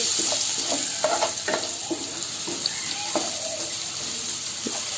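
Chopped onion frying in an oiled pan for a methi (fenugreek leaf) curry, with a steady sizzle and occasional scrapes and clinks of a stirring utensil, close and continuous.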